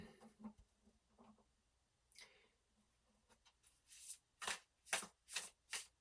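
Tarot cards shuffled by hand, with soft riffles early on, then a run of five or six loud, crisp shuffling bursts close by, with no talking.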